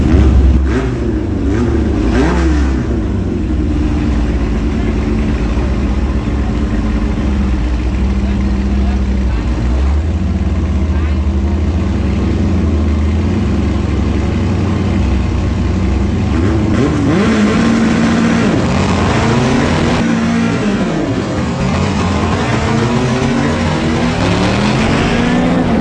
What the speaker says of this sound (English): We'll see how it does with the second gear launch.